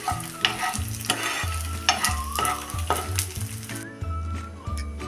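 Wheat flour is stirred and roasted in hot ghee in a pan, with a close, continuous sizzle broken by regular scraping strokes of a spoon about every second, heard without talk.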